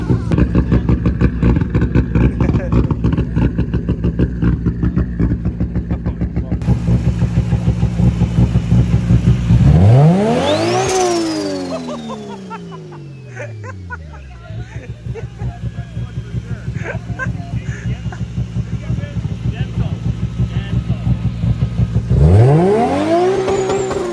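Turbocharged 2JZ-swapped Nissan 370Z engine revving hard from inside the car, with a steady drone that climbs in two sweeping accelerations and settles in between, loud and close, with voices talking over it at times.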